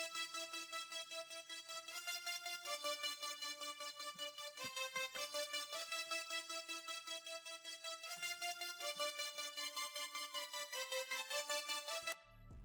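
Purity string melody run through a Gross Beat half-beat gate and a flanger, its sustained chords chopped into a steady pulsing stutter with a sweeping, swirling tone, loud and alone for about twelve seconds.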